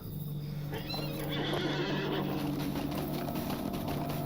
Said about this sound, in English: time to get on a horse